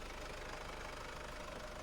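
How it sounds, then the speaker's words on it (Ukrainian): A Mercedes Sprinter 316 CDI diesel engine idles steadily under the hood, a continuous even mechanical rumble heard close up with no voices. "У двигуна немає жодних посторонніх звуків, працює рівнесенько, чистесенько"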